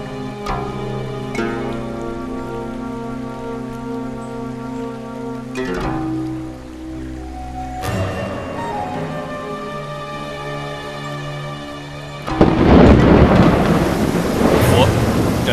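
A sudden rain shower with thunder breaks out in an outdoor scene of a Vietnamese folk-tale film. Deep rumbles and sustained music tones come first, then dense hissing rain swells loudly near the end.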